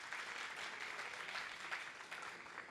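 Steady, dense applause from an audience welcoming a guest named Aline onto the Petrobras stage at a book fair. The clapping is fairly quiet and far off, with no pauses, and runs from start to finish.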